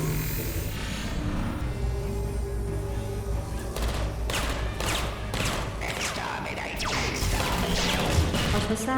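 Explosions and fire in the LEGO Dimensions video game, a run of repeated sharp blasts and crashing bursts over a dense roaring game soundtrack.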